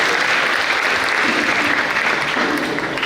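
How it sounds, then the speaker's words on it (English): An audience of students, teachers and parents at a school commemoration day claps steadily, a dense, even wash of applause lasting a few seconds with no pauses. "I request a clap for all the students, teachers, parents, and everybody here"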